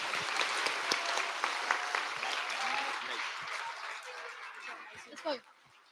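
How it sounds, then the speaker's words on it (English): A school assembly audience claps for merit award winners, a fairly soft, distant patter of many hands fading toward the end, with a little chatter and a brief bump just before it stops. "Can we please give these Merit Award winners a round of applause?"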